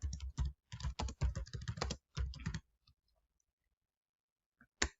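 Rapid bursts of typing on a computer keyboard, close and crisp, in clustered runs of keystrokes with short pauses, then stopping into near silence broken by a few isolated taps.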